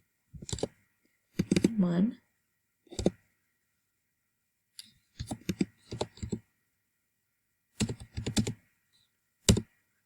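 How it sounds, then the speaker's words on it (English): Numbers being typed on a computer keyboard, with short bursts of clicking keystrokes spread across the clip and quiet gaps between them; a person talks in between the bursts. "we do have to type in the hyphens"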